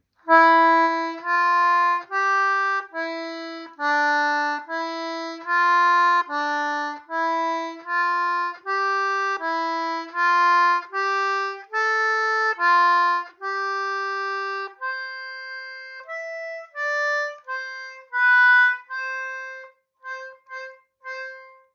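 Anglo concertina plays Carolan's Concerto slowly, one clear reedy note at a time with small gaps between, close and gentle.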